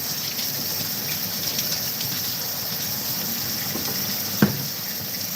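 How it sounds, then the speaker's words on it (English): Tap water runs steadily over hands being washed at a kitchen sink, a continuous moderate gush with one brief clink near the end, no talking. "And then I'm washing my hands."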